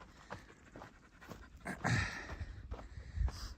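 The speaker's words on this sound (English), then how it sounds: "you're really hot, sweet girl. You're panting." A hot female dog pants rapidly on a mountain trail in Utah, quick rhythmic breaths close to the microphone with small snorts and a louder huff partway through.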